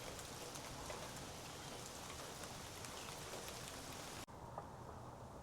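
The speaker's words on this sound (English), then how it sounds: "Here comes the rain." Rain falls outside in a steady, faint wash of soft patter with no voices, briefly dipping near the end before the gentle hiss resumes.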